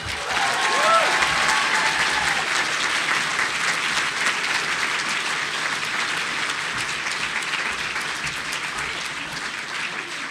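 An audience at the SPX 2019 Ignatz Awards ceremony breaks into sustained, dense applause with some cheering, a steady wash of clapping that holds for the full length and fades only slightly toward the end.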